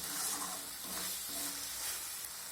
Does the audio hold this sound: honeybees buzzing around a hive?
no